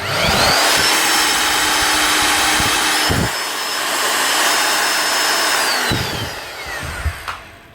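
A Bosch GSH 5 E demolition hammer runs dry under test, its motor whining loudly at full speed, easing slightly in the middle and spinning down with a few clunks at the end.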